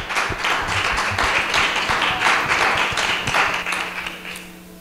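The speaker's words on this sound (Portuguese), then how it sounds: "E as palmas louvam o Senhor Jesus Cristo" A church congregation claps steadily and loudly during a worship service, a dense wash of applause that fades slightly toward the end.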